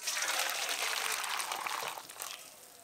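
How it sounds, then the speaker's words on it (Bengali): Hot water poured over dry salted hilsa fish pieces, a steady close hiss and trickle of liquid that runs for a few seconds and then tapers off slightly. "গরম জল ঢেলে নেব।"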